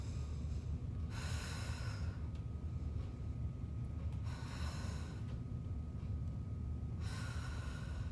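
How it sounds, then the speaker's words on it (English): Deep, slow breathing held through a twist in warrior one during a vinyasa flow yoga session, with three long airy breaths over a low steady hum, soft and close. "3 breaths here."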